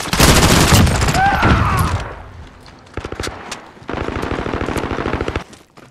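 Loud, rapid automatic bursts of P90 gunfire ring out in a Call of Duty Modern Warfare team deathmatch, with repeated volleys, a brief in-game voice callout and denser firing toward the end.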